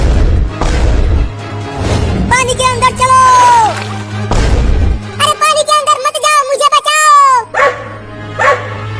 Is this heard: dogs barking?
yes